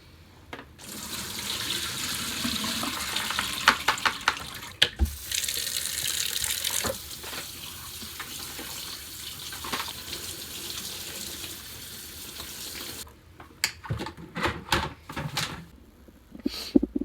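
Tap water runs steadily onto brined northern pike pieces in a sink for about twelve seconds, a close, continuous splashing rush, then stops, followed by a few clunks and knocks.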